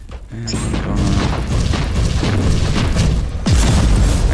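Autocannon firing in the Warhammer 40,000: Inquisitor video game, a string of heavy booming shots with mechanical clatter and a deep boom near the end, loud over game background.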